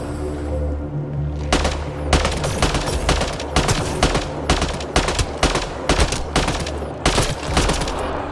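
Rapid bursts of automatic gunfire in the video game Mass Effect Andromeda, loud and close, a dense rattling volley that starts after a quiet moment and continues with punchy repeated shots.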